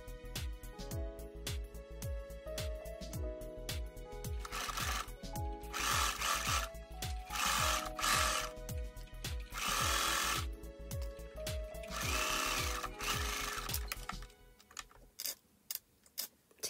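A sewing machine stitches the button placket of a ruffled silk dress, giving quick, regular mechanical ticks in steady runs with short pauses. It stays close and moderately loud, then stops near the end.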